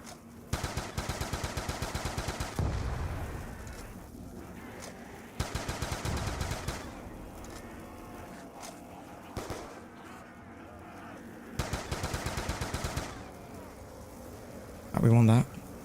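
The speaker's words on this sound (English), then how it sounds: "I press the shoot button too quick, so then it like stops you shooting for a millisecond and then it lets you shoot again" An M14 rifle in Black Ops 2 Zombies fires in three rapid bursts of sharp, evenly spaced shots, loud and close, separated by quieter stretches of game sounds.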